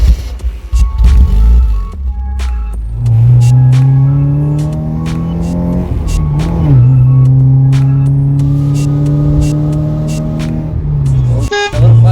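A 1987 Porsche 944 S engine starts and settles into a steady, loud running drone, with a rising note as the car pulls away. A few light knocks and clicks sound over it, and no voices are heard.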